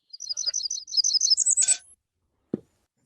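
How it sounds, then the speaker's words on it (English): A Blackburnian warbler sings a rapid series of thin, very high-pitched notes rising to a sharp final buzz, followed by a single brief knock; no talk. "this one's called a Blackburnian warbler."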